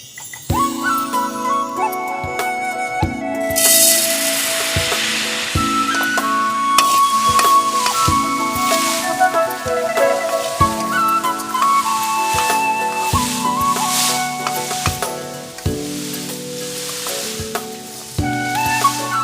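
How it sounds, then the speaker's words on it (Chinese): Mung beans rattle and hiss as they are stir-fried in an iron wok, steady sizzling with rhythmic scraping strokes over a backing of music. "将绿豆放在铁锅中炒"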